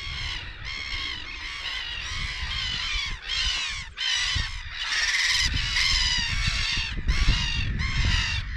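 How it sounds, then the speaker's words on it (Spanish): A large flock of agitated brown-hooded gulls calls near their nests, loud, harsh, overlapping cries repeating almost continuously with barely a pause. "Muchas gaviotas capucho café enojadas, así que nidos debe haber cerca."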